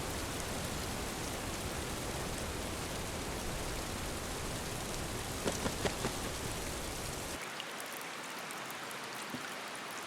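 Steady heavy rain in a rainforest pours down as a dense, continuous hiss, with a few brief louder drops before the downpour suddenly cuts to quieter dripping.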